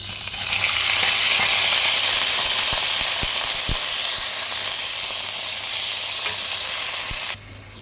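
Mutton pieces frying in hot oil with a cinnamon stick, a bay leaf and whole spices, giving a loud, steady close sizzle with a few soft knocks before it cuts off abruptly near the end.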